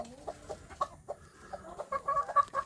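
Free-range village chickens cluck in short, close, uneven bursts that come in quick clusters, growing busier toward the end.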